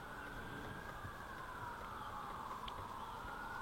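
Emergency sirens wailing outdoors in a valley, a faint steady distant tone drifting slowly in pitch over a low background of traffic and ambient noise, with no talking.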